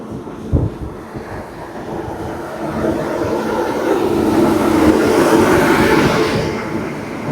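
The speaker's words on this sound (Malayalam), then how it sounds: "വഡോദര ഷെഡിൻ്റെ ലോക്കോമോട്ടീവാ" Vadodara shed locomotive hauling the Himsagar Express, a continuous rumbling rail roar with wheel-on-track clatter that swells steadily louder toward the end, heard close with no talking.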